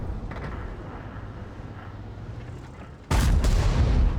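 A heavy tank cannon fires in World of Tanks on the Lakeville map, a sudden loud, sharp boom that cuts in near the end over a steady low rumble of engine and battle noise.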